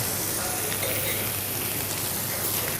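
Seafood sizzling in hot olive oil in a pan, a steady dense crackle held at an even level throughout with no voices.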